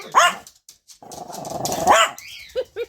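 A dog gives muffled, growly barks and yips with a cookie held in its mouth, close and loud in short bursts with brief gaps between.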